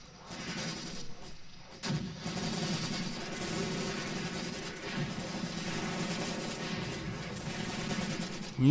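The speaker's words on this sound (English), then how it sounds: "That's going to be pretty nasty machine gun fire." Enemy machine gun fire in the tank and infantry combat game Graviteam Tactics Mius Front: continuous rattling bursts with distant booming, steady and moderately loud for several seconds without talk.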